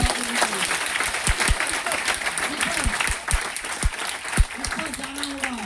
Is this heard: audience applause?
yes